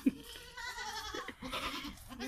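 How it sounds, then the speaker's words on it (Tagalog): Goats bleat at close range on a farm in Saham, Oman, several wavering cries overlapping in quick succession at moderate volume. "Ang daming kambing."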